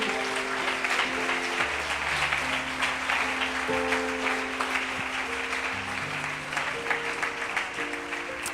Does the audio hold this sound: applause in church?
yes